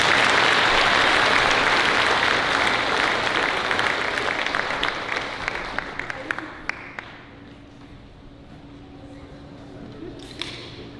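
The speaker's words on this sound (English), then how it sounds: "Give yourselves a round of applause." A graduation audience applauding graduating students, loud sustained clapping that gradually thins out and fades, leaving a few scattered claps and a brief voice near the end.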